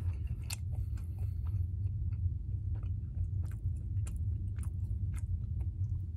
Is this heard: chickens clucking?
no